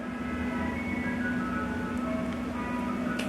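A faint Mister Softee ice cream truck jingle plays in the distance over a steady low background hum.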